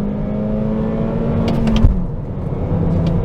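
A car launches from about 2,500 RPM with traction control switched off, its engine droning loudly and close, the pitch climbing steadily before a sharp shift, then pulling on at a lower tone.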